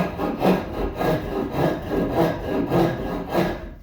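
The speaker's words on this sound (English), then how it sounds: "I'm going to round that out by using a rasp" A hand rasp rounds the angled end of a wooden leg for a bed-frame platform, making a steady run of rough scraping strokes, about two per second, close and fairly loud with no talking.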